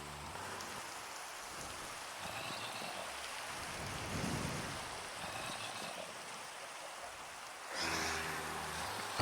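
Steady thunderstorm rain in Minecraft hisses continuously, with low thunder rumbles swelling in the middle and again near the end, no voices.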